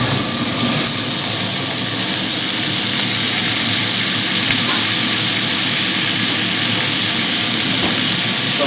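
Hare fillet searing in butter in a pan in a restaurant kitchen, a loud, dense, steady sizzle with a rumbling hum underneath, unbroken throughout.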